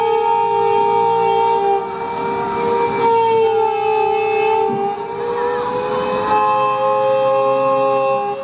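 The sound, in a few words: blackout siren sounding in Uttar Pradesh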